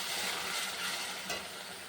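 Spice masala of cumin, Kashmiri chilli powder, turmeric and salt frying with a splash of water for katla fish kalia, a dense, even close sizzle throughout with a faint stir.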